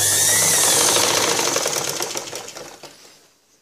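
An electric sewing machine runs a fast burst of stitches on blouse fabric, a rapid mechanical clatter that starts loud and close, then slows and fades to a stop within a few seconds.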